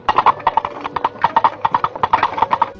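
Coconut shells clopped together as foley to mimic a horse's hoofbeats, crisp hollow knocks in a quick galloping rhythm, close and loud with no other sounds.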